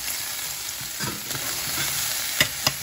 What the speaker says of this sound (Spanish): ya está bien citronada la cebolla, ya soltó su sabor, ahora le voy a agregar la calabacita.